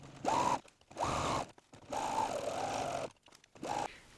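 A sewing machine runs top stitching along a garment seam at the armholes of a loungewear set, in four steady bursts of motor whir separated by short pauses, close and moderately loud.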